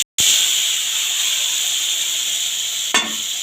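Spice paste mixed with water hits hot oil in a pan for a soya muitha, bursting into a loud, steady hiss and sizzle after a brief silence, with a short extra spatter near the end.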